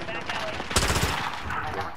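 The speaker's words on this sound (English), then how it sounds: "I see you shooting." Gunfire in the Call of Duty: Modern Warfare video game, a quick rattling burst of automatic shots at moderate loudness, with a sharper crack partway through, set against a busy background.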